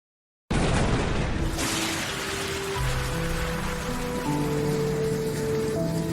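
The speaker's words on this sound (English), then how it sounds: "It's raining! It's finally raining!" Heavy rain starts abruptly after a short silence and pours as a dense, loud, steady hiss, with a low booming swell in the background and sustained musical tones rising beneath it.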